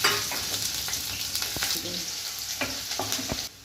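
Chopped onion hits hot oil already crackling with cumin seeds, giving a loud close sizzle with sharp spattering pops and stirring scrapes that cut off near the end, no talk.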